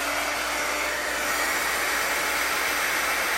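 A heat tool blows steadily and loudly while melting embossing powder on a Christmas card, a constant close-up rushing whir with no change in pitch.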